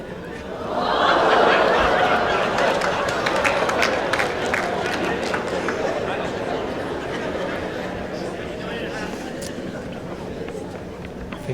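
Lawn bowls crowd at a World Bowls Championship reacting as the jack runs close to the edge of the ditch: a swelling roar of cheering and chatter that peaks early, then settles into sustained murmuring applause.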